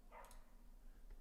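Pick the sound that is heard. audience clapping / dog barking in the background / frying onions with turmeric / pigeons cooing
dog barking in the background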